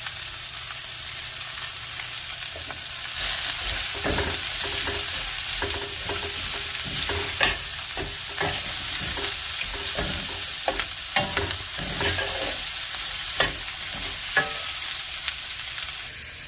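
Sliced peppers and onions sauté in a hot pan with steady sizzling throughout, punctuated by repeated scraping stirs and light clatter close by. No one speaks.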